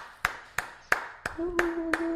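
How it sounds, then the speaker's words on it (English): Six sharp, evenly spaced hand claps, close and fairly loud, with a steady tone and a voice murmuring underneath in the second half; a small virtual round of applause offered to a guest. "I'm going to give you a virtual big round of applause"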